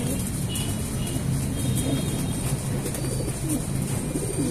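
Racing pigeons coo together in a loft, a steady, continuous murmur of soft coos that stays close and fairly loud throughout.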